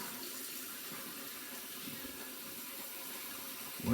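Tap water runs steadily into a sink while oil is rinsed off hands, a constant close splashing hiss for several seconds with a brief louder burst at the end.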